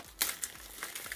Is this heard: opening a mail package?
yes